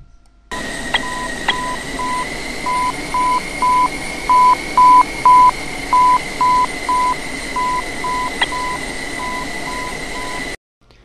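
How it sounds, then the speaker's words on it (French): An ILS marker beacon tone in aircraft instrument-landing audio: a steady series of evenly spaced beeps repeating over a continuous background hum, loud and close, with no speech. "L'outer marker émettra 3 bips longs."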